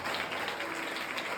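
A church congregation at a New Year worship service claps together, giving a dense, continuous burst of applause.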